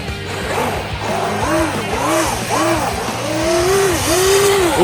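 A 6S Traxxas UDR RC truck drifts on an icy, slushy road, its electric motor whining in rising and falling sweeps that repeat every half second or so, loud and close throughout.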